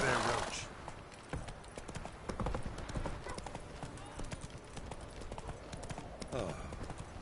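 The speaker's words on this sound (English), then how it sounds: "Whoa there, Roach." Galloping horse hooves in The Witcher 3 video game, a rapid, continuous drumming of hoofbeats close by, with someone talking over it at the start and end.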